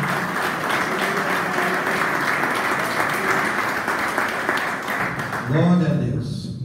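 Church congregation applauding Jesus, a sustained crowd clapping that runs for several seconds before a voice rises over it near the end.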